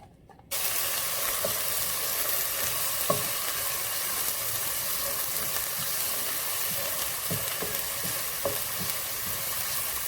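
Finely chopped onions and garlic hit hot ghee in a pot for Quedra, setting off an instant, even sizzle that stays loud and steady, dotted with occasional pops and light stirring clicks.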